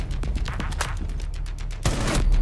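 Gunshots in the video game Rainbow Six Siege, a quick string of sharp, close shots followed by a heavier, louder blast near the end.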